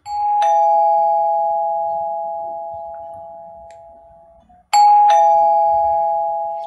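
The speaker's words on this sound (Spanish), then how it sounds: "A las nueve en punto se oyó el timbre." A doorbell rings twice, each a bright chime that decays slowly into a long sustained tone, with a short gap before the second ring starts, clear and close with no other sound.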